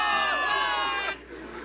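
A video game crowd of soldiers cheers and shouts together for victory, loud and sustained at first, then drops off and thins to a quieter murmur near the end.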